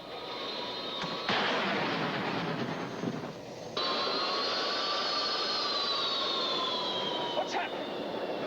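An aircraft engine drones steadily in flight, its whine shifting and sagging as one engine loses power, loud and continuous with a brief thud partway through.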